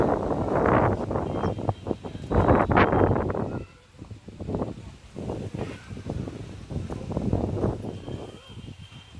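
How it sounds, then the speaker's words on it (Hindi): Gusty wind buffets the microphone outdoors in blustery weather, with loud rumbling bursts that die down and then return, and no clear talking over it. "पहले तो हवा चला, अब धूल चल रहा है"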